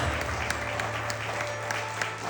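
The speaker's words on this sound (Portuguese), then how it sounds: "aplauda ele por isso" A church audience claps in a soft, steady patter, fairly distant and even, with no voices rising above it.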